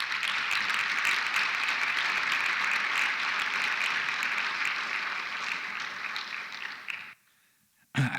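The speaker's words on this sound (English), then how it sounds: "So let's give these students a round of applause." An audience at a college science awards ceremony gives students a steady round of applause lasting about seven seconds, then it cuts to near silence.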